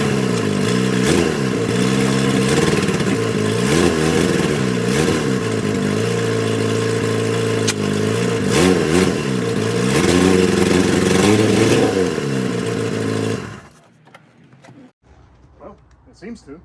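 A project car engine with no drive shaft and no clutch, revving loud and close while it is shifted through the gears. The pitch rises and falls repeatedly before the engine cuts off abruptly, leaving near silence.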